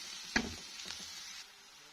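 Bell peppers dropping into a pan of golden frying onions give a soft, steady sizzle with one sharp clatter as they land, heard alone and fairly quiet.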